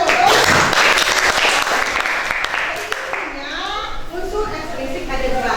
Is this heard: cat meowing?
no